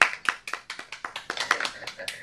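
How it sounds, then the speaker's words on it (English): Hand claps tapped out in a rapid, uneven series during a Toastmasters telepresence event, sharp close taps with a voice talking over them. "Maybe I'll clap again."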